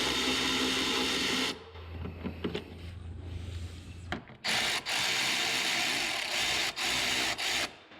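Ratchet wrench loosening the driver's-side water pump bolts on a Dodge Ram 3.9 or 5.9 engine, giving a close mechanical clicking and rasping with a brief lull partway through, then steady ratcheting again.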